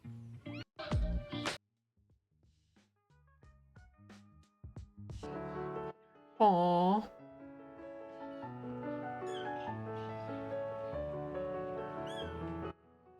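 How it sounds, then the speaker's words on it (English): Bengal kittens give high, squeaky meows: several close, wavering calls spread across the stretch with quiet gaps between them. A voice briefly reacts once. "Bengal kittens."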